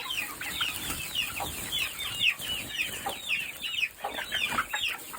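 Chickens and roosters cluck and chirp inside a coop, a busy stream of short calls repeating close by with no speech.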